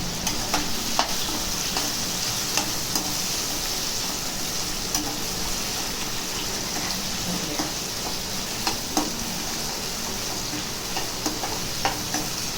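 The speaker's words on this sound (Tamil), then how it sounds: "தக்காளி பழம்லாம் நல்லா வதங்கணும்." Chopped tomatoes sautéed in a pan for sundakkai vathal kuzhambu, a continuous close sizzle with intermittent stirring scrapes and taps of the spoon throughout.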